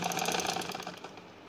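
A sewing machine runs steadily while stitching fabric for a baby shirt, a fast, even mechanical whir with rhythmic needle pulses, close and alone.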